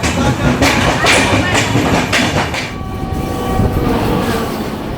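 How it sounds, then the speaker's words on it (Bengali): The Kumbha Express rumbles and rattles steadily as it leaves Mokama station, with rhythmic clacking at first that eases into a smoother, continuous running noise. "12370 কুম্ভ এক্সপ্রেস মোকামা ছেড়ে দিল"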